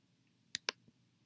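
Two crisp computer mouse clicks in quick succession, close and clear against near silence, followed by a fainter third tick.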